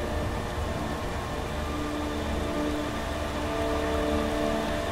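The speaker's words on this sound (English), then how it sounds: "It's raining." Steady rain falls in a continuous soft hiss, even and unbroken throughout, with no voices, in the game Skyrim.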